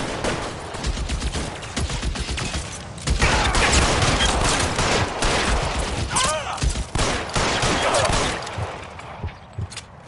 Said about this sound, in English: I hear AK.